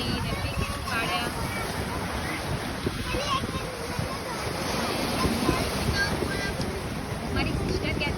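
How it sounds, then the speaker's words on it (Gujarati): Strong sea wind at Marine Drive seafront buffets the microphone in a continuous, loud roar, blended with the broad wash of surf and no clear breaks. "બહુ જ મસ્ત પવન આવે છે"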